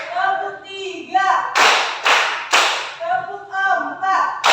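In a classroom counting game, three sharp, evenly spaced hand claps ring out in the middle, set between stretches of a teacher's voice calling out the count.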